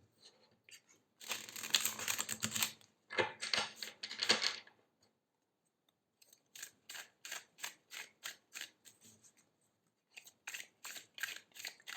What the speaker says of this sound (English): Let me shuffle a bit.